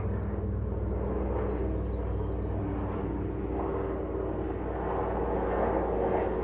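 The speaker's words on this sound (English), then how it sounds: "Now it's a helicopter." A continuous low, droning helicopter rumble hangs overhead, steady and fairly loud from start to finish as it passes above.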